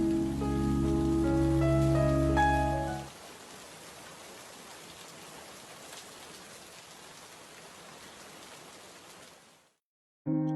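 Rain falls steadily in an animated scene, a dense even hiss of drops that takes over after a brief musical passage and runs alone until it cuts off near the end.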